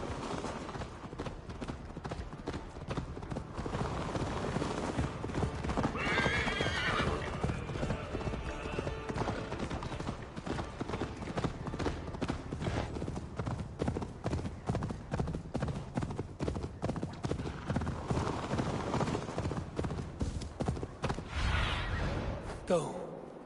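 Hooves pound in a fast, steady gallop throughout in Assassin's Creed, with a horse whinnying and voices speaking briefly over the rhythmic clatter.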